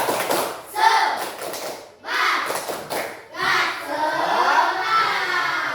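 A class of children performs the 'tepuk semangat' clapping chant, sharp bursts of hand claps mixed with young voices chanting in rhythm, fairly close and loud, with short pauses between phrases.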